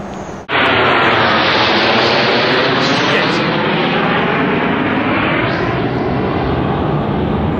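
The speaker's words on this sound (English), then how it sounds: "I can turn around and show you the SAS helicopter buzzing on the back end" A loud, steady roar of an SAS military helicopter passing close overhead, starting abruptly and holding a constant, dense rumble throughout.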